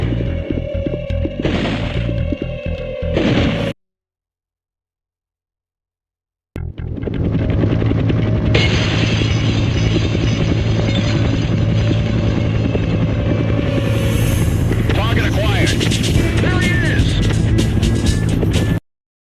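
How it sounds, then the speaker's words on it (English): Attack helicopter in the Dead to Rights action video game: a steady, loud mechanical rotor drone with heavy low rumble that cuts out briefly, then returns and continues under gunfire-like effects and music. "These guys will keep coming until I bring down that attack chopper."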